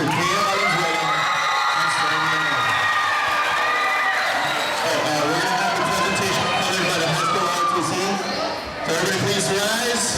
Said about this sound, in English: So let's get a big round of applause for Kaya Valenzuela.